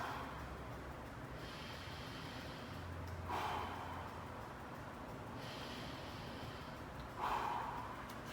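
Slow, deep breaths during a cobra stretch, with two audible exhales spaced several seconds apart over a soft, steady room hiss.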